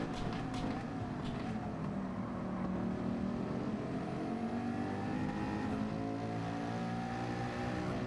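Mercedes race car engine in the Gran Turismo 7 video game droning steadily, pitch rising and falling through gear changes at medium speed, loud and continuous with no talk.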